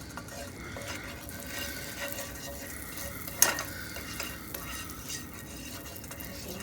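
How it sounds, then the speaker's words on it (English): Butter melted and sizzling in a frying pan for a sausage dinner, a steady soft frying hiss with light stirring and utensil clinks against the pan throughout, no talking. "Okay, so I put a little bit of butter in the pan,"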